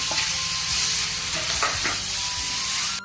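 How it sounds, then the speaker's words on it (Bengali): Boiled pumpkin greens hit hot oil with reddened garlic and green chilli, setting off a loud, continuous sizzle with stirring scrapes throughout. "এবার সিদ্ধ করা রাখা শাক দিয়ে দেবো"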